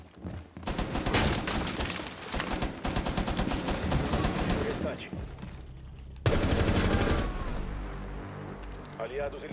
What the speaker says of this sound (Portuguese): Tachanka deu uns tiros nele